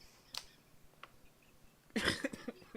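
A burst of coughing and throat clearing, one short cough-like sound early, then a louder cluster of rough bursts near the end, close and alone with no talk.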